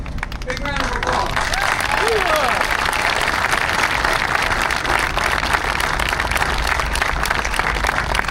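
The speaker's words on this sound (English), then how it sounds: "Big round of applause" Loud, sustained crowd applause and cheering outdoors at a Vietnam Veterans Day memorial parade, a thick unbroken wash of clapping with a few shouts and voices near the start.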